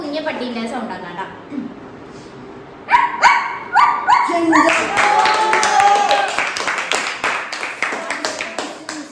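A voice imitates a puppy with a string of close, loud high-pitched yips, whimpers and little barks, coming in rapid bursts after a brief spoken lead-in.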